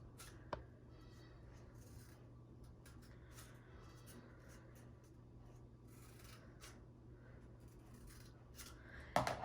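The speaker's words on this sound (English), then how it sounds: "get your other toilet paper roll and cut 2 slits on each side" Scissors cut slits into a cardboard toilet paper roll for a homemade cotton ball launcher, giving quiet, close snips and rustles at an irregular pace, with a sharper snip near the end.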